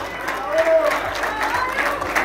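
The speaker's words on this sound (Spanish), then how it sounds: "Fuerte los aplausos porque son varios." Applause from a crowd at an endurance horse-riding prize ceremony, a brief burst of clapping heard under an announcer's voice.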